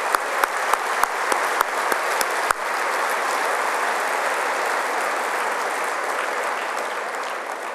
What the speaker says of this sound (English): Can I get a real round of applause?